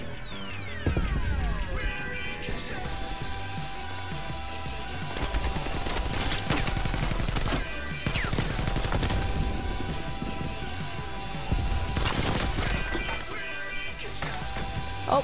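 Sustained automatic gunfire from an AK-74u in Call of Duty: Cold War, dense bursts of rapid shots running nearly continuously, loud and close, with clinks and crashes mixed in.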